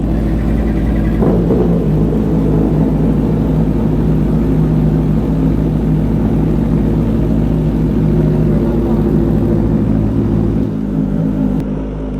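A motorcycle engine idling loudly indoors, a steady deep rumbling drone that fills the room for the whole stretch, dropping off slightly near the end.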